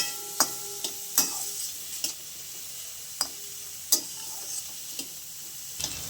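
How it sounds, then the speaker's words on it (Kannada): Onions frying in a pan for Dhaba-style dhal tadka, with a steady hiss and a few sharp clicks and knocks from stirring spread through it. No one speaks. "ಇಲ್ಲಿ ಸ್ವಲ್ಪ ಚೆನ್ನಾಗಿ ಬಾಡಲಿ ಈರುಳ್ಳಿ"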